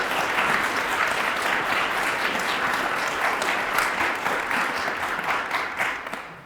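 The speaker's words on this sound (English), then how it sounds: "let's give them a round of applause" Crowd at a groundbreaking ceremony for a nursing school building applauds the engineering firms, a sustained, dense clapping wash at moderate distance that tapers off toward the end.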